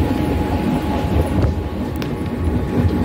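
A 15-car Virar–Churchgate slow local train runs through Mumbai near Malad, a steady close rumble of wheels and rattling carriages with faint clicks and squeaks over the rails.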